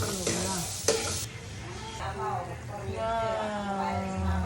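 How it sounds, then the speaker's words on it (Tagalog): Kaldereta simmering in coconut milk, with a spoon scraping and stirring through the thick bubbling sauce, close and steady beneath a talking voice. "Ayan na guys, kumukulo-kulo na siya."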